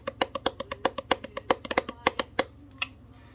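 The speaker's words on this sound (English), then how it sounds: "it makes cool sounds if you tap it." Fingers tap on the cover of a book, giving a quick, irregular run of sharp, close taps for about two and a half seconds, then one last tap after a short gap. No voices are heard.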